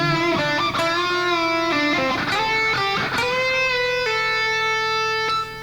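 An electric guitar plays a lick from a guitar solo, a quick run of picked notes and bends that settles into long sustained tones, played alone and loud.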